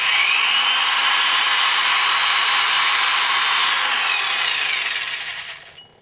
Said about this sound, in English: I've got my electric drill here with my 5/64 drill bit. Just going to drill the first one.